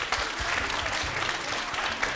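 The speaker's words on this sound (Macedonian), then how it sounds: "Ете така, драги мои, да дадеме еден аплауз" An audience at a stage performance claps in dense, continuous applause that stays even and sustained throughout.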